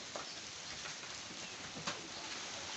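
Heavy rain pours in a steady, dense hiss on surfaces, continuous throughout at moderate level with no clear talking.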